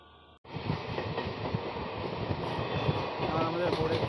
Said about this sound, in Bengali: আজকে আমরা যাব গৌড় এক্সপ্রেস করে বর্ধমানের দিকে।